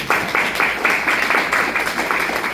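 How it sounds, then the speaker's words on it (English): An audience at a school or team gathering gives a round of applause for a coach and parents: dense, even clapping that starts abruptly and holds steady for a couple of seconds, with no talking over it. "Let's give Ms. Bobby, our parents, and our coaches a big round of applause."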